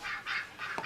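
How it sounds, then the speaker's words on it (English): Geese honk inside a hall of a lodging house, a few loud nasal honks in quick succession close by, with no speech over them. "Why, the bloody geese in the hall, Maureen."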